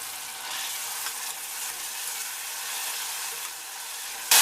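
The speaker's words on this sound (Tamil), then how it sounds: "தக்காளி நல்லா மசிஞ்சு வர வரைக்கும் இதை நம்ம வதக்கிக்கணும்" Steady, dense sizzling of chopped tomato sautéing in a hot pan for Indian-style pasta, continuous and close, ending with a brief louder burst.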